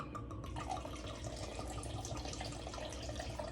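Liquid poured in a steady, continuous splash into a container during eggnog preparation, close and moderately loud, with no talking.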